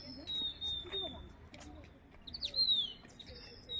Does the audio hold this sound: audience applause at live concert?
no